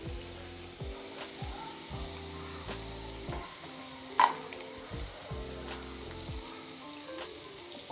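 Onions sauté with salt in a hot pan, giving a continuous sizzle broken by repeated scraping stirs, with one sharp clink partway through.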